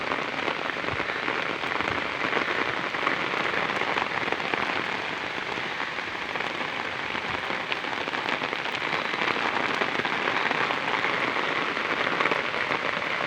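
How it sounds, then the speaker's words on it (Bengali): Heavy, continuous rain pouring down, a dense, steady roar of drops drumming on surfaces, loud and close with no letup and no voices. "এইভাবে যদি লাগাতার বৃষ্টি হতে থাকে"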